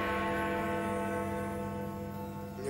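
A ringing bell with a long, sustained tone and dense lingering overtones fills the whole stretch, steady and fairly loud with no voices over it.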